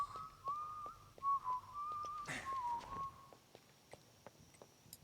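A casual whistled melody from a character in James Bond 007: Blood Stone drifts for about three seconds, broken by a sharp burst of noise, then fades into quiet steps.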